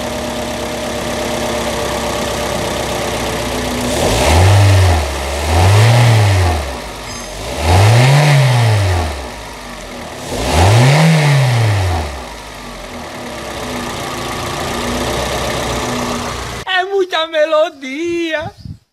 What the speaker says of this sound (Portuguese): vamos escutar a melodia do motor a gasolina?